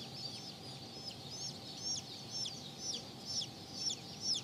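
Silver spangled Spitzhauben baby chicks, a Swiss chicken breed, peeping in quick, high repeated chirps that come in a steady rhythm, soft and close over faint background hiss.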